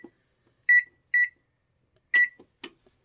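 Oven control panel beeping as it is set to 400 degrees, four short electronic beeps in two pairs, close and clear against near silence.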